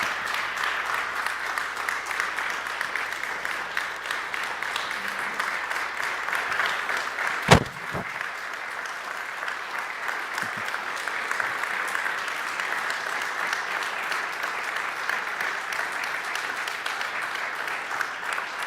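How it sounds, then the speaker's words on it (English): Steady applause from a crowd at a Quilt of Valor presentation, sustained clapping throughout with one sharp louder clap or knock partway through. "Let's give a round of applause for Jim Peterson."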